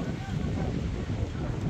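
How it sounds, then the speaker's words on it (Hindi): Strong stormy wind buffets the microphone outdoors at a wedding tent site, a continuous low roaring rumble without clear breaks. "हवा चल रही है"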